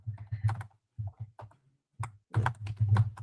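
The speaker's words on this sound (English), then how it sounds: "I'm typing those down right now so I don't forget." Fingers typing on a computer keyboard in quick bursts of close, crisp key clicks, separated by brief pauses, with no talking.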